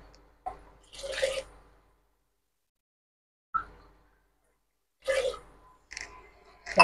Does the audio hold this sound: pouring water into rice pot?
yes